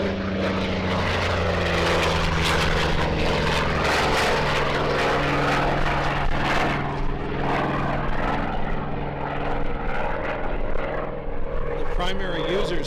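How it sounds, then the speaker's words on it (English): A propeller-driven airplane rolls for takeoff at the Apple Valley air show, its engine droning steadily and loudly with a low throbbing tone that builds and slowly shifts, while voices talk over it. "Already beginning its takeoff roll, getting the performance started."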